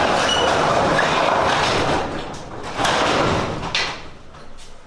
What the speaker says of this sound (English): I'm gonna go open the door.